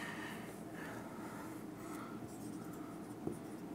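Marker or chalk scratching steadily across a classroom board as amounts are written during an accounting lesson, a soft continuous scraping under a low background hiss.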